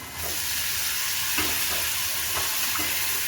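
Vaghar tempering with garlic, ginger, onion, green chilies and tomato for dal, sizzling loudly and steadily in hot oil with a few stirring clinks, no voices.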